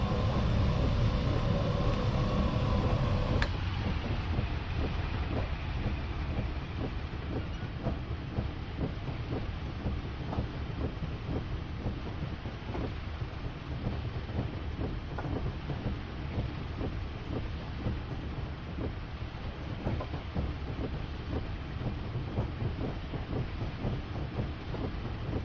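A Class 50 diesel locomotive in Train Simulator Classic on the Settle–Carlisle line at night, a steady loud rumbling drone with rhythmic clicks of wheels over rail joints, continuous and close, with no talking.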